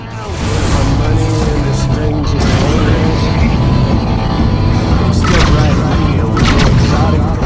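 Incoming missiles exploding around a spaceship in the game Rebel Galaxy, heard as loud continuous rumbling booms and dense low blasts layered over an engine-like drone and game effects.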